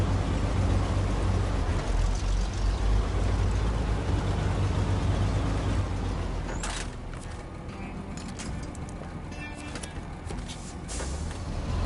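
A truck engine in the off-road driving game Snowrunner, set in Alaska, rumbles steadily with a low drone and mechanical creaks, easing slightly quieter partway through; no talking.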